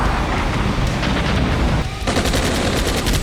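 Dense, loud gunfire rattling almost without pause during an infantry assault in the Armored Brigade II war game, rapid automatic bursts layered over heavy rumbling, broken by one brief dip before the firing resumes.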